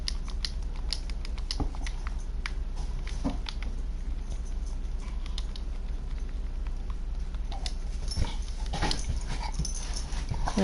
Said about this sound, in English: Hi, puppy dog.